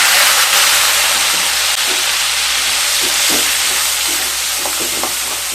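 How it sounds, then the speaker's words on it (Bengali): Ground onions frying in hot oil with cinnamon and spices, a bright steady sizzle with occasional stirring scrapes, loud and close. "পেঁয়াজকে হালকা ভেজে নেব।"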